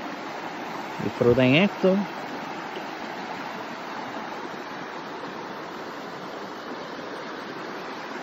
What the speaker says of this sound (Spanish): caminar por el río y escuchar el sonido es una belleza